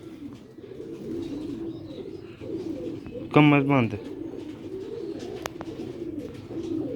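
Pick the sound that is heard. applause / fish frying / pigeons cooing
pigeons cooing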